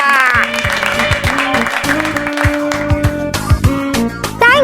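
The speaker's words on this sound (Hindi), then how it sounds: "तालियां।" A studio audience at an awards moment in a kids' superhero show applauds while bright music with sustained tones plays over the clapping and bursts of sound effects.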